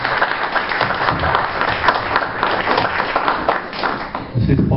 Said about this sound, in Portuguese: uma salva de palmas para a família Masaru.